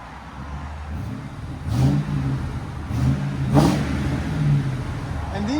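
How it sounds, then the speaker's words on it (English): A Ford Crown Victoria with new Carven TR exhaust rumbles at idle and is blipped in two or three short, gentle revs, fairly quiet and nearby with a deep, smooth tone. "Carven TRs. Rev it gently."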